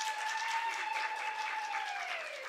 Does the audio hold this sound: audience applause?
yes